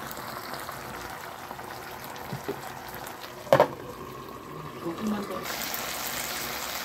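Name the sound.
lotus root simmering in braising liquid in covered pot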